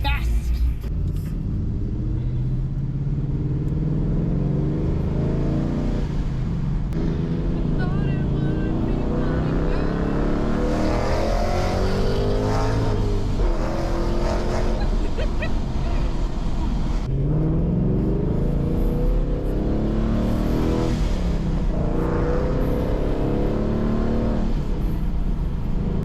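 A Ford Mustang Mach 1 driving fast through traffic, its engine a steady, loud low rumble with swells of acceleration and someone talking over it throughout.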